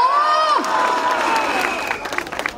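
At a Taiwanese political campaign rally, a crowd cheers and claps. A loud, high sliding voice or whistle rises over the start, then mixed cheering and scattered clapping follow.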